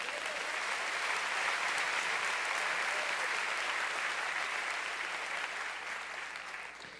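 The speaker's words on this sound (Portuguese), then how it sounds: "Glória a Deus, dá uma salva de palmas" Sustained applause rises from a church congregation during a sermon, a thick, even roar of clapping that holds for several seconds before tapering slightly toward the end.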